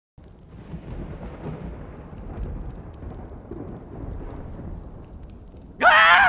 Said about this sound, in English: a dark storm gathered